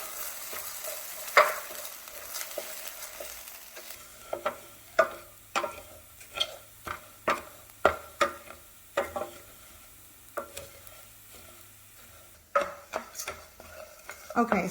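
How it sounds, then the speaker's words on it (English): Rice toasting over medium-low heat in a pan for Mexican rice, with a soft steady sizzle under a series of sharp scraping stirs from a utensil, irregular and close, several strokes bunched in the middle. "I'm going to toast the rice over a medium-low heat until it's golden brown and aromatic"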